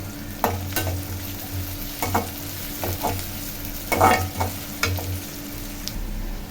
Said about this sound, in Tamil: இதில் ஆனியன் தான் நல்லா வதக்கணும். இது வதக்கிட்ட பிறகு தக்காளி போடலாம்